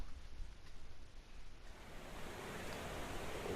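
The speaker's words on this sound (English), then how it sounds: "you hear rushing water" Rushing waterfall heard in the video game Welcome to Die, a steady broadband wash of water that grows louder and fuller after the first second and a half, with no talk.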